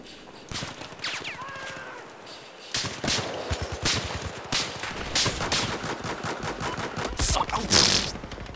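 Sniper and automatic gunfire from Battlefield 4 cracks in sharp, repeated shots, closely spaced and loud, after a brief quieter stretch at the start, with faint talking in the background.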